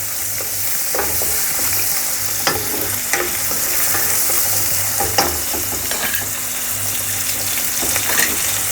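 Steady loud sizzling of tomato and green chili tempering in hot oil for vaghareli khichdi, with occasional sharp pops and stirring clicks scattered throughout.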